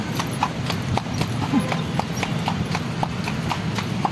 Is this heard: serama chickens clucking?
no